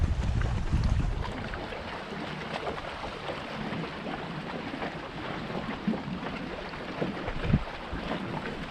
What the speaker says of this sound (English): this wind is just gonna play with me.